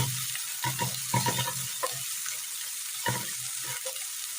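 Ginger, garlic, green chilli and chopped onion sautéed in oil after mustard seeds have popped: a soft, steady sizzle broken by intermittent knocks and scrapes of stirring.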